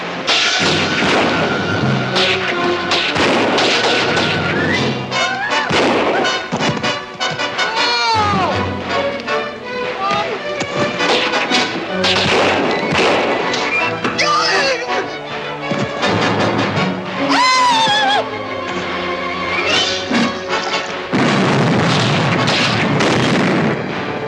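Ship's cannon fire in a 1950 pirate film, dense repeated booms and blasts mixed with orchestral music and crashing effects throughout, loud and continuous.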